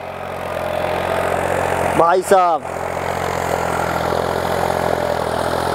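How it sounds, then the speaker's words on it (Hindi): A New Holland 3600 Heritage Edition tractor with its cultivator fully lowered runs steadily with a loud, even diesel drone throughout, while someone briefly speaks over it midway. "कोई भी लोड नहीं ट्रैक्टर पे, बहुत ही फर्स्ट क्लास चल रहा है"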